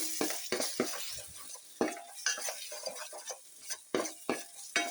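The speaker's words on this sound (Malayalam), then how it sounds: "ചെറിയ സ്പൂണിന് ഒരു സ്പൂണ് മഞ്ഞൾ പൊടി ഇട്ടിട്ടുണ്ട്. ഇത് നല്ലതായിട്ടൊന്ന് മൂത്ത് വരട്ടെ." Turmeric and coriander powder frying in a pan for fish head curry, with a soft sizzle under repeated scrapes and clinks of a spoon stirring, close and moderately quiet.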